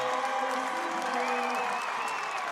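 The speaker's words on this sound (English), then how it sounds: "And the crowd gets into it" A crowd at an NCAA Division III college wrestling dual meet between Alma and Olivet applauds and cheers after a come-from-behind win, a steady wash of clapping with a commentator's voice running over it.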